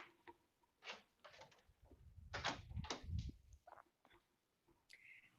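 A door is shut indoors, heard as a few faint shuffles and soft knocks that build to a muffled thud, then quiet clicks, all low and somewhat distant.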